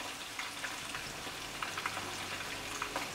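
Chicken wings coated in batter frying in a pot of hot oil, a steady soft sizzle with scattered small pops and crackles, fairly quiet and close.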